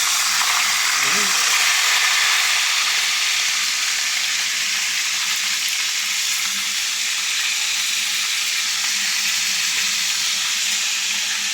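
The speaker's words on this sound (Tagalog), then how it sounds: "Ito naman po ating piniprito ay luto na ang kabila." Fish frying in a pan of hot oil, cooked alongside ginataang papaya, gives a loud, steady, close-up sizzle that runs without a break, with faint talk underneath.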